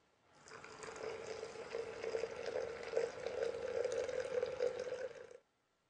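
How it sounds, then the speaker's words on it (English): Heated water poured into a French press for coffee, a steady close liquid splash and gurgle running unbroken for about five seconds before stopping abruptly. "Now all you do is pour your heated water into the press"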